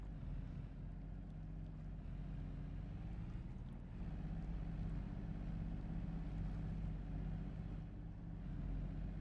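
A tractor engine in Farming Simulator 22 runs at a steady low drone, even and continuous, with faint wind-like hiss over it.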